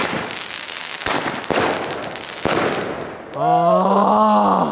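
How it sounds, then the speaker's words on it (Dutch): Fireworks set off outdoors at a New Year's Eve celebration, a run of loud close bangs and crackling bursts followed by a rising whistling rocket. "Heerlijk dat vuurwerk"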